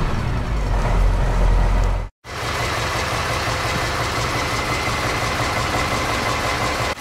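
A Ural truck engine idles while warming up, giving a loud, steady low-pitched rumble that cuts out briefly after about two seconds and then resumes, with no voices over it.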